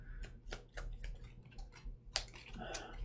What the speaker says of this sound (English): let's shuffle this back into the bottom of my deck